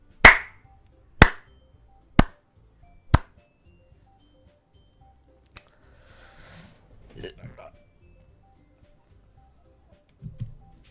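A sparse applause effect from the visual novel game Doki Doki Literature Club: four sharp, evenly spaced claps, loud and close, followed by quiet faint rustles and soft background noise.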